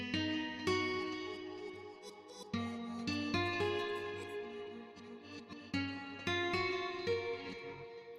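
A guitar sample runs through Guitar Rig with Portal, Echo Toys and Vintage Verb effects, giving quiet plucked notes that ring out with echoing decay, the struck attacks recurring every second or so.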